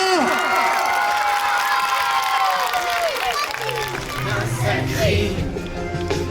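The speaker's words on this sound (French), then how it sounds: "Applaudissez-vous très très très très fort." Schoolchildren at a school running event in Layrac cheering and clapping for themselves, loud high-pitched shouts and squeals over steady applause, dense and sustained.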